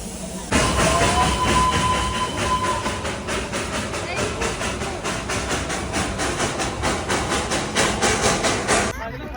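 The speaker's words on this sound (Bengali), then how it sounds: "উঠে পড়েছি আমরা টয় ট্রেনে।" A toy train rumbles along its rails with a steady clickety-clack rhythm and a constant hiss, loud and close throughout, with voices of riders faintly underneath.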